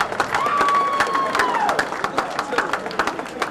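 A crowd applauds and cheers for Mr. Cal Hall at an event at Leeds FC with Mike Tyson and Frank Bruno, a steady wash of clapping with a whistle sweeping over it and a voice cutting through.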